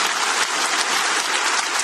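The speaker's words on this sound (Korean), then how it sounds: "이렇게 큰 영광의 박수 올려드립니다" A church congregation applauds during a worship service, a dense, steady wash of many hands clapping at once, loud and close, filling the whole short moment with no voices rising above it.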